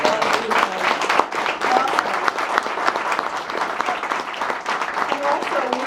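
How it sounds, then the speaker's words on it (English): A large audience claps loudly and continuously throughout, a dense crackle of many hands with a little crowd noise mixed in. "Everybody, please give a big round of applause."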